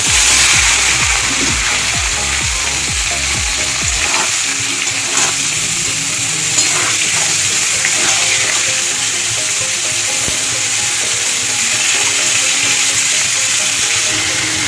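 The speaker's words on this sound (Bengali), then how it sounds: "আমি এই তেলে এবার ফুলকপিগুলো ভেজে নেব।" Cauliflower frying in hot oil, a steady loud hissing sizzle that fills the whole stretch, with some faint clatter early on and no talk.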